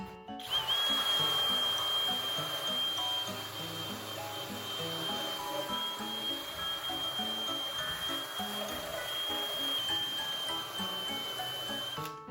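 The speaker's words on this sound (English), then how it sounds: "I don't have any special tools, so I'm using my drill" An electric drill whirs steadily at close range, a continuous high motor whine with a slight change in pitch partway through.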